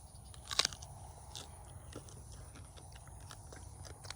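One sharp, crisp crunch of a bite into a firm Autumn Beauty jujube fruit, followed by faint, quiet chewing.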